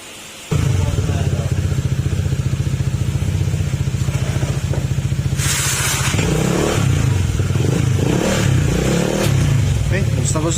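A Honda ADV160 scooter engine starts up and runs with a steady putter on a road test, then revs and rattles as it moves off, with a brief hiss midway.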